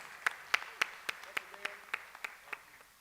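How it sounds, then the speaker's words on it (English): Thin, quiet applause from an audience at a human rights film festival panel: about a dozen distinct claps in a loose, slightly uneven rhythm, sounding sparse and somewhat distant. "Let's give this panel another round of applause."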